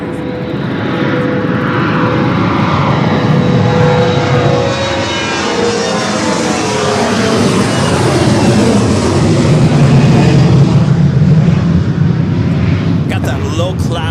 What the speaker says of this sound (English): That was American Eagle 5639 taking off to Panama City on the CRJ 700ER.